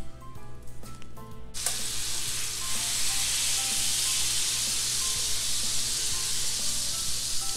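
An entire stick of soft organic butter melts in a pan, starting with a few quiet clicks before breaking into a loud, steady sizzle that hisses on without a break, with no talking over it.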